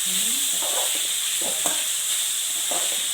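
Pasta ingredients sautéing in a pan, with a steady bright sizzle throughout and several scraping stirs of a spoon against the pan, close and fairly loud, with no talking.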